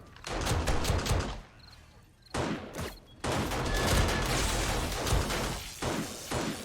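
Gunfire rings out in the co-op zombie game 7 Days To Die during a horde night at the base, sustained loud bursts of shots layered with impacts and crashes, briefly dropping quiet before resuming.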